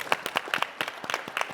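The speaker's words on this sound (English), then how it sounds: "Hey, round of applause for people." Brief applause from an audience at a conference keynote Q&A panel, a light patter of a few hands clapping for under two seconds, fairly close.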